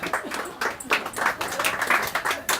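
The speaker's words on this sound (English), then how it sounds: "Come on, Flash, give him a round of applause." Small crowd at a book launch clapping, quick uneven claps close by that come in short bursts over a few seconds, with a voice faintly underneath.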